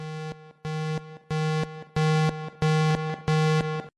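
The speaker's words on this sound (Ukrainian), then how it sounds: "Сигнал хімічної небезпеки." Chemical hazard warning signal from civil alarm system in Kremenchuk: six loud, evenly spaced electronic tone bursts, each a steady harmonic buzz with a brief pitch change near its end, separated by short gaps.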